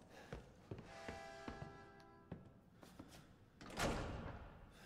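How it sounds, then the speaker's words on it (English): Door closing in the horror game Resident Evil 7, a quiet sequence of soft thuds and clicks ending in a fuller thump, heard alone and faint. "that door closing is so scary"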